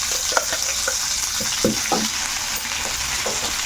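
Chutney is tipped into a hot tempering of cumin, dried red chillies and curry leaves in a pan and stirred, giving a continuous frying hiss broken by several scraping stirs, with no talking.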